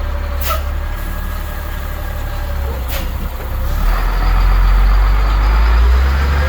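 A dump truck's bed is raised as its engine revs up into a loud, deepening diesel roar, with a couple of sharp clanks early on.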